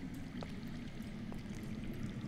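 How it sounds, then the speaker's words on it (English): Water flowing underground in the Telltale Game of Thrones video game, a faint, steady trickling stream heard from a distance with no voices over it. "I hear water. From underground."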